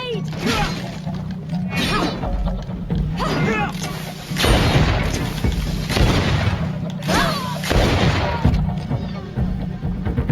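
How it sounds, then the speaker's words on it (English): A grenade explodes in the Greedfall video game during a tense confrontation, a dull booming burst with shattering debris amid ongoing dialogue, with several voices speaking over the blast and ambient music. "Grenade!"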